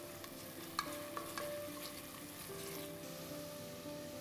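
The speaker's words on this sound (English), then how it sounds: "Saute till the onions go translucent." Onions and ginger-garlic paste with chili sauté in hot oil for keema pattice, a quiet, steady sizzle with a few light utensil taps and clinks early on, no talking.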